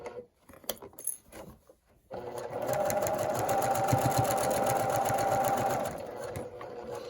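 A sewing machine stitches a quarter-inch seam on a bargello quilt. A few clicks and handling taps come first, then a steady, close motor whir with rapid needle chatter that eases slightly at the end.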